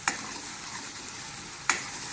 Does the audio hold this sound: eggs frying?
yes